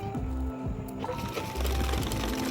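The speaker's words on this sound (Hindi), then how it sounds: "यहाँ से चलाएंगे सिलाई को, चोली को अटैच कर देंगे" A sewing machine stitches a choli, a short run of mechanical whirring that grows louder and steadier partway through.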